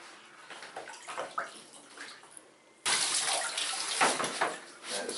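Air hissing from a leaking Therm-a-Rest sleeping pad, a steady broadband rush that grows noticeably louder halfway through as the leak is found, continuing close and prominent with no talking.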